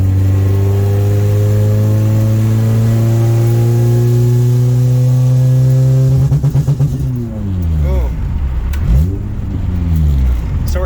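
A Honda-swapped car engine holds a loud, high rev for several seconds, then stutters against a false rev limiter with rapid cutting pulses and uneven pitch swings.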